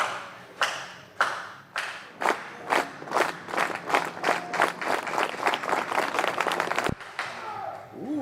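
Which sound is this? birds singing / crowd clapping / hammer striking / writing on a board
crowd clapping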